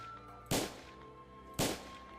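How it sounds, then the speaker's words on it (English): Two sharp, loud gunshots about a second apart, each a sudden crack fading quickly over a quiet hum. "Even gunshots can work."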